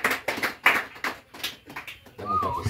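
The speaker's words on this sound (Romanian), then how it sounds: "Haideți să aplaudăm" Applause at a birthday surprise for a husband: a small group clapping in irregular bursts, fairly close and moderate in volume, ending with a brief voice.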